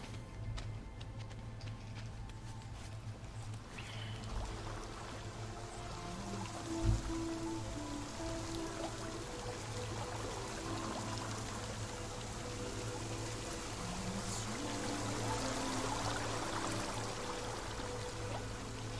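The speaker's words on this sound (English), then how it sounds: "Ooh, water." Flowing water in the adventure game Rime, a soft continuous trickling stream with faint ticking drips over a low steady hum, quiet and unbroken.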